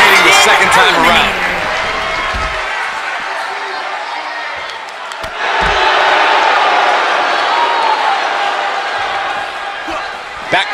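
A capacity crowd at a live professional wrestling event, GPW, roars and cheers loudly and continuously, with sharp slams and thuds from the ring breaking through the sustained crowd noise.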